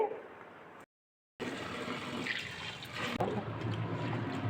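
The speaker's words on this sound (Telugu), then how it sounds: "పచ్చిమిరపకాయ పచ్చడి చేసేటప్పుడు ఈ విధంగా కడగాలండి ఒకసారి చాలు" Green chillies being washed in water for a pickle, with close splashing and trickling, a brief total dropout early on, then steady running-water sound with a sharp clunk near the end.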